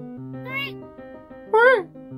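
A cat meows twice in a mirror -insideout- free game, beside a boiler room: a short rising mew, then a louder drawn-out one, over a steady low hum and soft game music.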